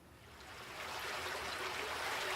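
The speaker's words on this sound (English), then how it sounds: "that's just the sound of a stream" Flowing stream water used as a sound effect, a continuous bright rushing and babbling that swells gradually in loudness over a couple of seconds.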